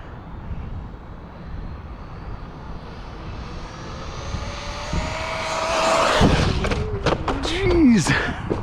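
Traxxas Maxx Slash RC truck driven at full throttle outdoors, a rising electric motor whine that builds as it approaches and peaks near the end, with thumps as it lands or hits the ground and a voice talking over it.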